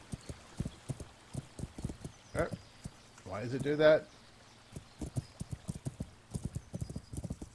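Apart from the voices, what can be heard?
horse hooves clip-clopping while riding, Kingdom Come: Deliverance video game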